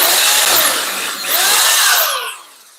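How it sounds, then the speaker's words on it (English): A power drill runs during DIY home renovation work: a loud, continuous whirring whine that swells and sags in pitch over a few seconds before tapering off. No voices are heard. "where's my trusty drill? I need my drill"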